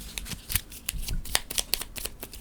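A deck of cards from the board game Scholars of the South Tigris being shuffled on a tabletop: a rapid, irregular run of crisp riffling snaps and flutters, close and clear, with no talking.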